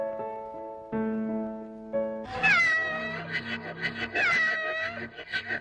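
A house cat meows in a domestic scene: a few steady tones first, then loud, drawn-out, wavering meows repeating close by.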